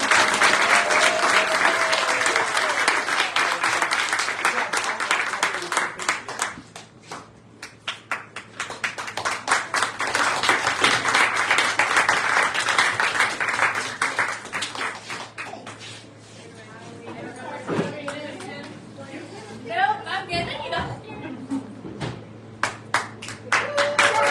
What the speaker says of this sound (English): Big round of applause to all these guys.